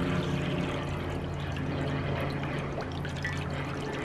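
Water pours steadily into a bird's drinking container, a close, continuous splashing rush without talk.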